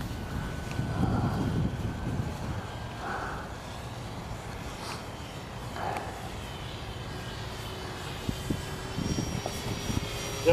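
A model airplane engine runs at full throttle, a steady distant drone carried over wind noise and outdoor rumble for the whole stretch, with no talk.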